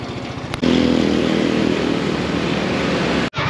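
A motorcycle engine starts up and runs at a steady, loud idle close by, its rough putter continuing before a brief cutout near the end.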